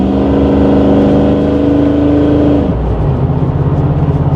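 A project car accelerating hard from a launch with both rear tires spinning, the engine droning loud and close in a rising tone before easing off into a lower, pulsing rumble.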